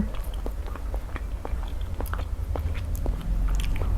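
Soft young coconut meat, thick and fluffy, is scooped with a spoon and chewed up close, giving a series of small wet crunching bites over a low background hum.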